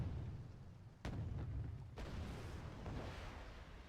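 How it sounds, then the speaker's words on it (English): Counter artillery shells landing in the Wargame Red Dragon video game, two sharp distant booms about a second apart followed by rumbling, crackling debris, fairly faint overall. "Counter artillery is falling on my ally mortar."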